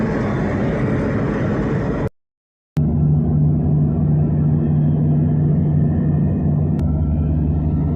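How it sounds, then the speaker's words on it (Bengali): The Nakshikantha local commuter train pulls out from platform 2 at Shibchar railway station. Its loud, steady low engine drone and rumble are broken by a brief silent gap, then the drone resumes just as strongly. "লোকাল নকশিকাঁথা কমিউটার ট্রেনটি এই মুহূর্তে শিবচর রেলওয়ে স্টেশনের 2 নম্বর প্ল্যাটফর্ম থেকে ছেড়ে যাচ্ছে।"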